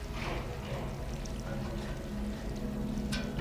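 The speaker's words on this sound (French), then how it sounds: "j'ai vu qu'il y avait de l'eau qui tombait là-haut" Steady falling water pours and splashes continuously in the Stray video game, a broad even wash of sound with a faint clink near the end.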